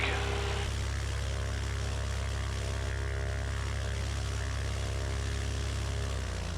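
A light aircraft engine runs up to 2000 rpm before departure, a steady, loud propeller drone holding constant throughout with no pauses.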